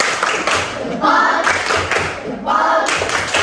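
Schoolchildren in a classroom perform a patterned group clap, dense hand claps rising and falling in rhythmic bursts that fill the room.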